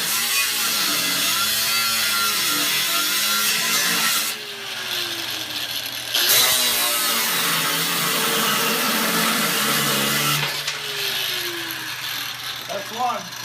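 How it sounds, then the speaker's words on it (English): An angle grinder cuts through rusted nuts on quad plow shoes, a loud continuous metallic whine running steadily with two brief pauses as the cut restarts, close by, with sparks flying. "I can't even budge the nuts, so we'll just cut them off."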